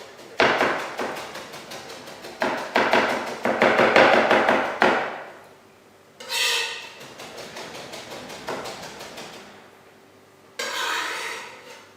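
Kitchen knife slicing fresh ginger into fine strips on a cutting board, heard as quick runs of close, crisp rhythmic chops with short pauses between bursts.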